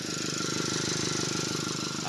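A faulty air conditioner fan motor that fails to spin vibrates with a steady, dense, buzzing rattle, continuous and moderately loud at close range, with no pauses.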